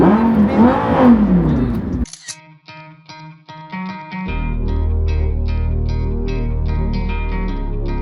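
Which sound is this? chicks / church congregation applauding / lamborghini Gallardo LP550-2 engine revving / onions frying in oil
lamborghini Gallardo LP550-2 engine revving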